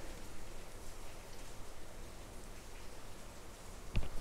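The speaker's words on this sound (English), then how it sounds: "as the rain starts to come down even harder" Rain falls outside, heard from indoors as a soft, steady hiss at low volume, with a single sharp click near the end.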